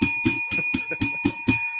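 A bell is struck seven times in a steady, quick rhythm of about four strokes a second, each ring clear and bright, sounding close and loud with no talking over it.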